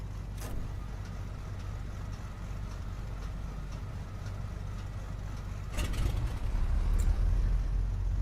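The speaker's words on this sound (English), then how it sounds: "Starting engine 1." A Beech B60 Duke twin piston engine is started in Microsoft Flight Simulator 2024, heard as a steady low rumbling drone that swells a little louder toward the end, with faint clicks and no voices.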